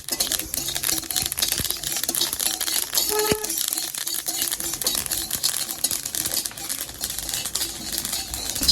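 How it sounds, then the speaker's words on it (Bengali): Pisi grains frying in a pan on a Chaitra Sankranti grain dish, a dense, crackling rattle of tiny popping and rustling grains, loud and close, with one brief tonal ping partway through and no talking. "দেখুন পিসি ভাজার সময় কত সুন্দর একটা আওয়াজ হচ্ছে।"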